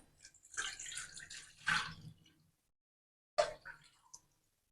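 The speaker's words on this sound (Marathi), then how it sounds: "इथे गंजामध्ये टाकायचं आहे दीड ग्लास पाणी" Water is poured into a cooking pot in a kitchen for urad dal papad dough, two short splashing pours separated by a pause, close and fairly quiet with no talk.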